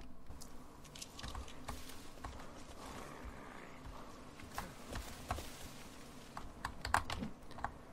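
Someone strikes a computer keyboard, giving a run of sharp, irregular clacks close to the mic over a steady low background rumble, with a slightly louder hit near the end.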